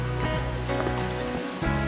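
Heavy rain pours steadily through forest cover in Xuan Son National Park, a dense, continuous wash of water noise with a brief dip near the end.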